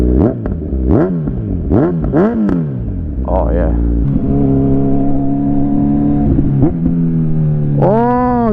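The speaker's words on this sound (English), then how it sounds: "That was just a downshift from second to first gear." A 2021 Kawasaki Z900 with an Akrapovic full exhaust system, close and loud, blips sharply several times while downshifting, then settles into a burbling idle before one final rev.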